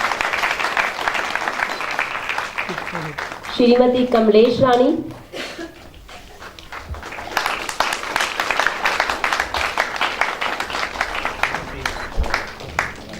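An audience at a stage event applauds in sustained, dense clapping that runs through most of the stretch, pausing briefly while a presenter speaks over it, then swelling again loud and steady.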